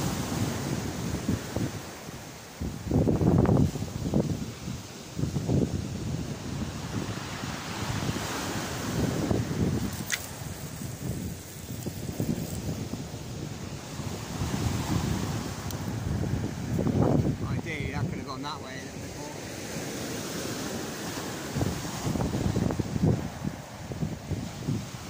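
Strong wind on a beach buffeting the microphone in repeated low rumbling gusts, with a constant roar of surf behind it, no voices.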